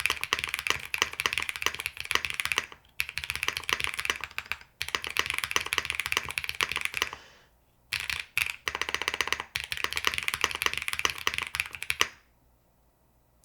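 Fast, foamy clacking from typing on a Womier SK71 Pro mechanical keyboard, close and continuous in bursts broken by short pauses.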